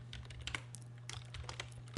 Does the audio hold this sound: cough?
no